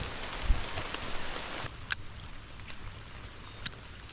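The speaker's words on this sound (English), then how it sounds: "Try to get out of the rain for just a couple minutes." Steady rain falling outdoors at a fishing spot, a continuous soft hiss of drops that thins out partway through, with a few sharp clicks over it.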